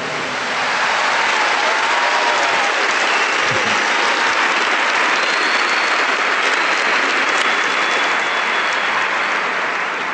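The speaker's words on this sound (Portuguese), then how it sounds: "Give the Lord a big clap" Church congregation at a Catholic priest's talk clapping for the Lord: loud, continuous applause from a large crowd, building in after the first second and holding steady to the end, with faint voices beneath.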